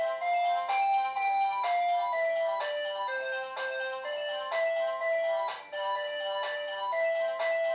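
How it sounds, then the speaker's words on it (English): A MECO smart home doorbell triggers a phone call notification: a repeating electronic ringtone chime plays a bright melodic pattern in steady cycles, clear and close, with no talk over it. "Now let's see if someone is doorbelling on my front door."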